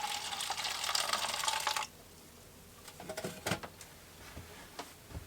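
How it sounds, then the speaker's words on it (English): Jun, a probiotic drink, pours from a dispenser into a cup in a van, a faint steady rush of liquid that stops abruptly, then a few soft clinks and handling sounds. "I'm filling this cup from the dispenser here and then pouring into the bottle."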